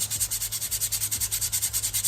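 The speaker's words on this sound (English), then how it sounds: "sanding this like this exposes some of the metal that's molded into that brake pad" Rhythmic back-and-forth sanding on a semi-metallic brake pad, steady gritty strokes repeating roughly eight times a second, close and fairly loud.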